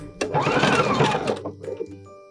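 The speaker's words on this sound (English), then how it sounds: "we're gonna go ahead and just zigzag across both of these bra straps" A sewing machine runs a zigzag stitch across two bra straps on a bralette, one loud continuous burst of whirring that slows and stops, followed by brief handling noises.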